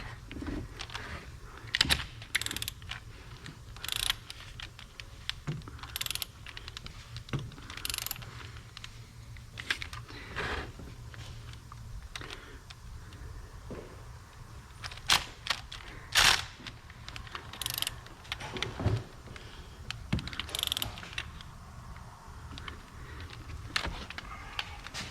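A ratchet tightens vacuum pump bolts on a 2012 VW Beetle, sounding as close repeated mechanical clicking bursts and sharp clacks scattered across about twenty-five seconds with brief pauses and no talking.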